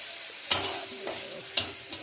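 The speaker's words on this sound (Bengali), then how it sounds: "আদা রসুন পেঁয়াজ দিয়ে মশলাটা নুন হলুদ সব কিছু দিয়ে দিচ্ছি, দিয়ে এবারে কষে নিচ্ছি।" Spice masala with ginger, garlic, onion, salt and turmeric being stir-fried in oil for a fish curry: a soft continuous sizzle broken by two sharp spatula scrapes against the pan and a lighter third one.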